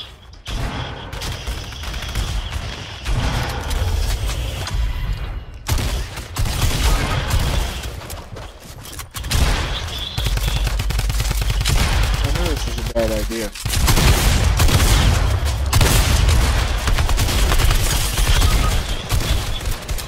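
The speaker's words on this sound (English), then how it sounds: "It's like six people shooting me, that's cool." Rapid bursts of gunfire from several shooters in Fortnite Chapter 2 Season 2, crackling loud and nearly continuous over a busy game mix. A player talks throughout.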